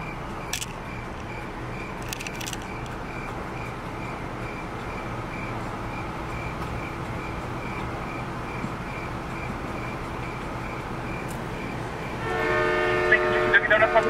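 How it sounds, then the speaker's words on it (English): A long, steady horn drone persists through the scene, with a few sharp clicks early on and a louder tonal burst near the end, heard from outdoors with a faint voice in the background. "Sorry, I couldn't hear you over the honking."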